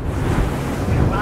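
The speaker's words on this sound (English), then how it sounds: "The waves are hitting it." Ocean waves pound the hull of a speeding MTI V42 powerboat in rough water off Haulover Inlet, a loud continuous rush of spray and wind buffeting the microphone with no break.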